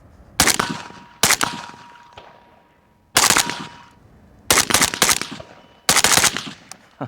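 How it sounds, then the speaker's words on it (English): A suppressed Galil ACE 556 rifle fires five loud, close bursts of rapid shots, each a sharp rattle separated by brief pauses, with no talk. "Feels better suppressed than it does unsuppressed."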